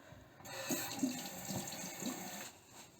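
Tap water runs steadily into a bathroom sink during face washing, a soft continuous stream with a few splashy surges as hands dip under it, fairly quiet and close, with no talking.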